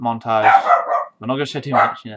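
A dog barks in the room, short sharp yelps mixed in with someone speaking nearby, loud and close.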